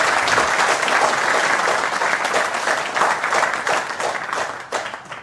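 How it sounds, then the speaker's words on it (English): A conference audience claps for Debian's 30th birthday, a broad, sustained round of applause from a large room that thins out toward the close. "Give it a round of applause."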